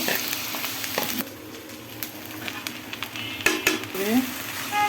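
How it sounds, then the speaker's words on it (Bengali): Rice frying in a pan with lentils, stirred with a utensil: a steady sizzle with scraping stirs and occasional clinks of metal against the pan, close and fairly loud, no voice. "চালটাকে আমি ভালোভাবে নাড়াচাড়া করে নিচ্ছি।"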